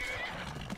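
A horse in the video game Skyrim lets out a short neigh, fairly faint and brief, with a hint of hoof movement underneath.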